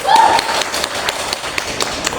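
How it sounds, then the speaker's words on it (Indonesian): A school class applauds for a student named Nabila, scattered sharp claps and taps at an uneven rhythm, moderately loud, with a brief voice at the start. "Silahkan kasih tepuk tangan untuk Nabila"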